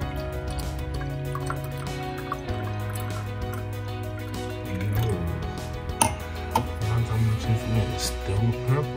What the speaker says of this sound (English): I pour some of this water, which is almost a neutral color pH, into this